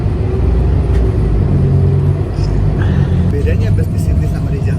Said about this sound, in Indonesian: ini adalah pemandangan bus yang ada di Sydney